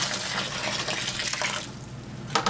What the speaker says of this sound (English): Pour it over the lid there.